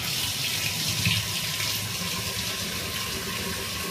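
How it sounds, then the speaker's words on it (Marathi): A special drinking-water tap runs in a steady, full, unbroken gush into a basin, close and fairly loud with no talking. "प्यायचा पाण्याचा स्पेशल नळ काढला ह्याच्यात"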